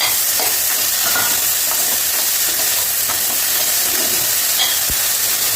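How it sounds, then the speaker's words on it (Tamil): Onion, green chili and mustard seeds saute in a pan with a steady, loud, broadband sizzling hiss that barely changes, with occasional faint crackles and a single soft knock near the end. "பொரியலுக்கு வெங்காயம் பச்சை மிளகாய் கடுகு தாளித்து வதக்கிட்டுருக்கேன்"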